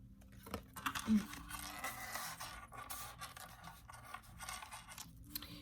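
Tarot cards slide and scrape softly as they are drawn from the deck, a faint, close rustle with small scratchy flicks and light handling noises over a quiet room.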